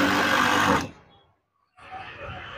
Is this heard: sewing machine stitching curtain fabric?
yes